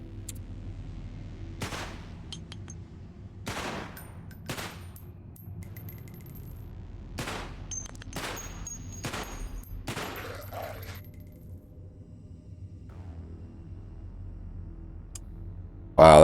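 Single pistol shots from a USP-45 in the zombie survival game Cataclysm DDA, about nine sharp, spaced cracks fired one at a time over several seconds, then a quiet stretch before a sudden loud burst at the very end.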